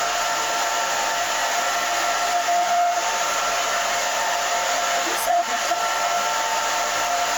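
A hair dryer blows steadily on hair during a women's haircut, a constant close airy whoosh with a faint whistling tone, holding even for several seconds apart from a brief bump near the end.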